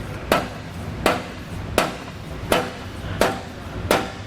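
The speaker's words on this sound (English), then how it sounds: "then we can take our hammer and start kind of tapping it away." A hammer strikes during installation of a Curt trailer hitch receiver on a 2012 vehicle, landing six sharp, evenly spaced metallic taps about once every 0.7 seconds. Each tap is loud, close and clear against a quiet background.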